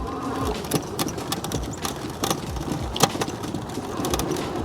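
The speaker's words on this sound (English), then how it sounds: "You do hear a little rattle from the plastic tank here" A plastic tank rattles on a Bee Challenger electric bike as it rides, a light continuous buzzing clatter with small irregular knocks over a steady motor whine, heard up close and without talk.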